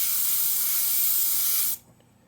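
An airbrush sprays paint in a steady, close, loud hiss while a shield masks an area of a photorealistic muscle car painting, then cuts off abruptly near the end.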